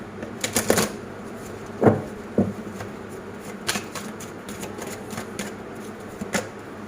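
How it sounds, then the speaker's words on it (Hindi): Angel tarot cards being shuffled by hand, giving a few quick riffling bursts and soft flicks of card stock, close and fairly quiet. "एक बार मैं इन्हें शफल कर लेता हूँ अच्छे से।"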